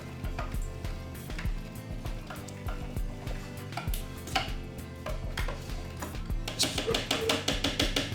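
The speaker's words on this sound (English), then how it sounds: "A good stir." Food being stirred in a pan for a lamb dish: continuous scraping and clinking of a utensil against cookware, with a brisker run of taps near the end.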